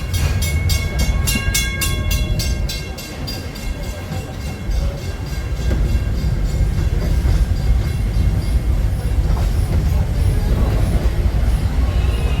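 A Walt Disney World Railroad steam train at Magic Kingdom rolls along on a ride, with a quick run of ringing bell strikes at the start over a continuous rumbling, clattering ride noise.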